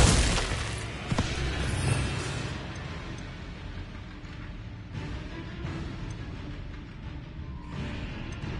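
Glacius freezing spell cast in Hogwarts Legacy on PS5, opening with a sharp shattering burst and crackling impact that fades into a low, rumbling icy wash, with a few fainter flares later and no talking.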